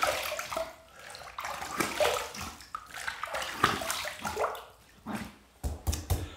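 Water splashed onto the face for a rinse after a shave, irregular close sloshing and splattering bursts with short pauses between handfuls, fairly loud throughout.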